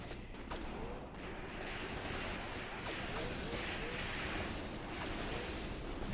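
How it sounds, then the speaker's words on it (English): Distant gunfire from a tripod machine gun in Graviteam Tactics, set in Kharkov in 1942, comes as faint sharp cracks over a dense, rumbling battlefield wash, with a voice faintly present underneath. "Whoa, that's from far away. That must be a tripod MG."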